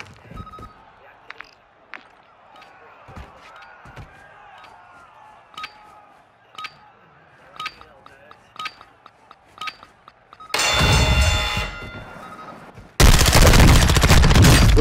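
Video game gunfire: scattered sharp, quiet shots and clicks pop at irregular intervals, then two loud, dense bursts of sustained fire close in near the end.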